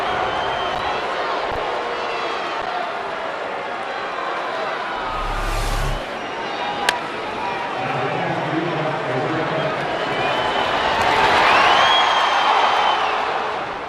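Baseball crowd at a New York Mets at San Diego Padres game reacting to an umpire's safe call at first base, a broad murmuring roar swelling toward the end, with commentators talking over it.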